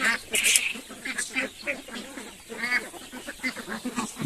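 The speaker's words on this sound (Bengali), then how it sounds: "আর এগুলো হচ্ছে আমার রাজা হাঁসের বাচ্চা" Busy, overlapping quacks and peeps from a group of feeding ducklings of a large duck breed, close by and steady, with a faint voice in the background.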